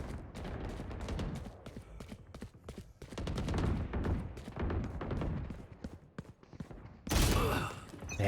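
Gunfire in a shooter video game, with dense, rapid volleys of close, loud shots and bursts continuing throughout, ending in a sudden harsh blast.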